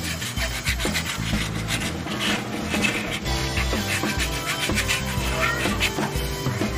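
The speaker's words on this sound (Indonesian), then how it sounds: "atau di amplas seperti ini." Sandpaper rubbed steadily back and forth across a coconut shell, a close, continuous rasping scrape with an even rhythm throughout.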